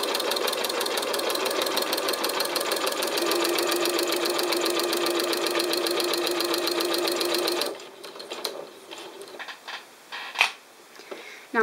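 A sewing machine stitches around a curve at a fast, steady mechanical rate for several seconds, loud and close, then stops, leaving a few soft clicks and handling taps.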